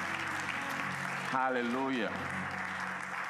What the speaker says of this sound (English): Come on, give yourselves a round of applause.